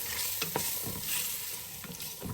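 Tomato puree fries on a high flame for chicken biryani, a steady close sizzle broken by a few soft scraping stirs, no voices.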